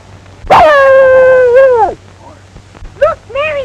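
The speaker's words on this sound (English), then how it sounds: "Look, Mary, a little dog." A small dog from a 1936 film lets out a long, loud howling yelp that holds steady and then drops off, followed a moment later by two shorter whimpering yips, with no talk over it.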